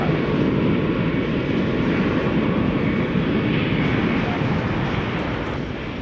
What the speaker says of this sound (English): That was an Airbus A319, American Flight 2943, off to Jackson